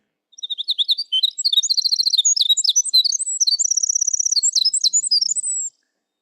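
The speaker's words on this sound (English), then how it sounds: "This is the sound of the winter wren." A tiny winter wren in spring forest delivers a long, rapid song of high, tumbling trills and chirps, clear and alone, running about five seconds without pause.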